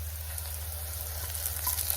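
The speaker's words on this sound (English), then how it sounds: "I've got some browning on my onions." Frozen onions browning in a soup pot give a soft, steady sizzle close by, with a low constant hum underneath and a few faint stirring clicks.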